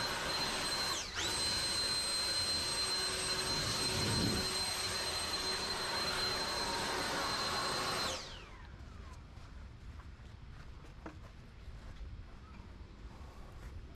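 Leaf blower clearing a back patio roars steadily and close, with a high whine, then winds down and cuts out, leaving faint outdoor background.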